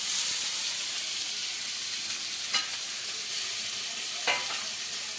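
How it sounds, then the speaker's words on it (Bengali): Onion, green chili, garlic and tomato frying in hot oil for a rohu fish curry, a steady dense sizzle with a couple of brief scraping stirs, close and constant, no voices. "তারপরে আমি ভালো করে এই সমস্ত মশলাগুলো ভাজবো। পেঁয়াজ, কাঁচা লঙ্কা, রসুন, টমেটো"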